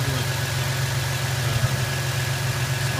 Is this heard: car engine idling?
yes